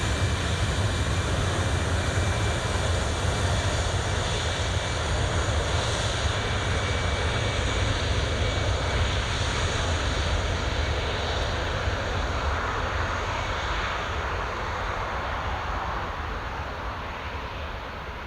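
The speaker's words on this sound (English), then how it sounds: "that's EasyJet rolling" An EasyJet airliner rolls for takeoff on runway 25 at Newcastle International Airport, its engines a loud, sustained roar that holds steady before easing slightly toward the end, no voices.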